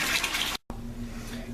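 Water rushes steadily from a tap into a 5-gallon paint bucket during an aquaponics water change, a close, broad hiss that breaks off for an instant before resuming with a faint low hum beneath.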